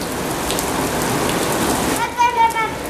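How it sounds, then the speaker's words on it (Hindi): Heavy rain pours in a steady roar close by; near the end a voice briefly speaks over the downpour. "बारिश हो रही है मस्त वाली"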